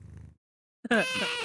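A soft low rumbling purr fades out, then after a short silence a close, loud, drawn-out meow rings out.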